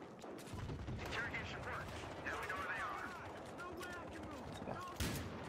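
Gunshots and battle noise in Battlefield Hardline multiplayer, with busy firing and mechanical clatter throughout and a distinct louder shot near the end, while a voice talks over it.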